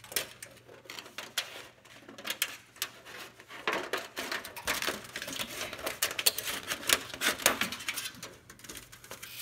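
Craft material for a fall mushroom-cap decoration is trimmed smaller with scissors, giving faint, close snips and rustling handling noises, quiet and irregular, without talk.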